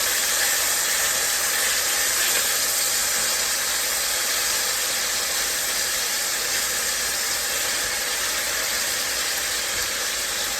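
Beef steak strips for stroganoff brown in a very hot pan, making a loud, unbroken close sizzle like a constant wash of hiss with no talking.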